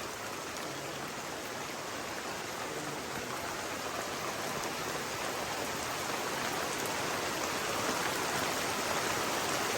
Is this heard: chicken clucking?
no